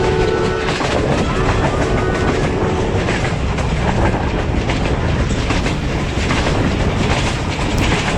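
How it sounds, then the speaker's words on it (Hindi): Allama Iqbal Express passenger train running between Sialkot and Lahore, a steady loud rumble with rhythmic clickety-clack of wheels over rail joints as it gathers speed, continuous throughout with no voices. "ट्रेन ने एक दफ़ा फिर स्पीड पकड़ी"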